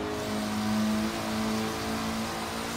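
A slammed Mitsubishi Galant in Forza Horizon 3 holds a steady engine drone with a sustained harmonic hum, fairly loud and even, with no talk over it.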